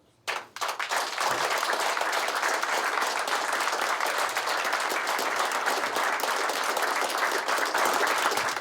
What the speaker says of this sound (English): I just want to give you a round of applause for that.